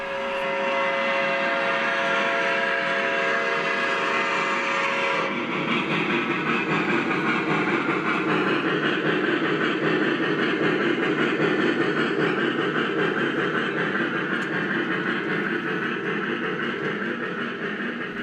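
An O gauge three-rail scale model train works up the long grade of Pemberton Hill on a layout, a steady loud mechanical rumble and rolling drone that continues throughout, with a horn-like tone sounding over the first few seconds.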